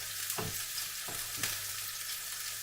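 Turkey meatballs fry in a pan with a steady, close sizzle, broken by three soft knocks as the meatballs are nudged and turned, with no voices.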